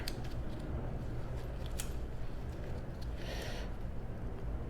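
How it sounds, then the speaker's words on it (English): A zip tie ratchets tight on the chain of a 2008 Honda CBR600RR during a chain and sprocket install, giving a few short plastic clicks and a brief rasping zip over steady workshop background noise. "Zip tie this up here."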